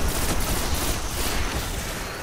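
Rapid pulse rifle fire in Destiny, a dense continuous rattle of shots that fills the whole moment, loud and close with no pauses or talking.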